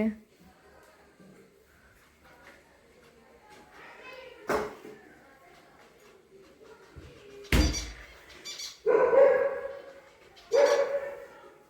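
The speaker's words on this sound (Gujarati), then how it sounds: "અમારે સામે ડોગી છે" A dog barks a few times at a distance, separate loud yelps scattered among people chatting nearby.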